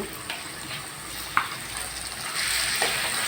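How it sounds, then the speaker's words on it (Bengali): Potatoes with a ground paste of cumin, ginger and dried chilli sautéing in a pan: a steady close sizzle with scraping stir strokes and a brief clatter, growing slightly louder toward the end, no talking. "আমি আলুর সঙ্গে ভালো করে কষিয়ে নিচ্ছি"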